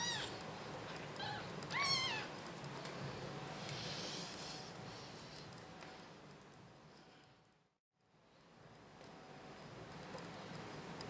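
A new kitten meows softly indoors, giving a few faint, thin cries against a quiet background.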